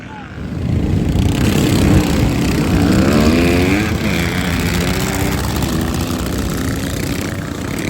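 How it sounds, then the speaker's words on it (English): Racing lawn mower engine at a Mini Mayhem motorsport event, a loud buzzing drone that rises and then settles into a sustained roar, fairly near and dominating throughout. "that mower went."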